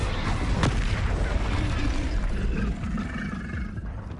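The Incendio fire spell is cast in Hogwarts Legacy, a loud roaring whoosh of flame with a sharp burst at the start, sustained and then fading slightly.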